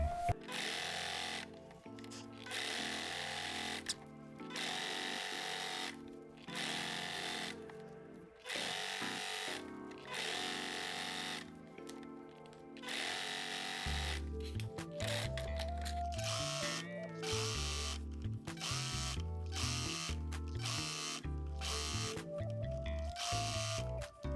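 A sewing machine top-stitching a faux leather bag runs in repeated bursts separated by short pauses, its motor hum and rapid needle rhythm close and steady, later joined by a lower, heavier motor tone.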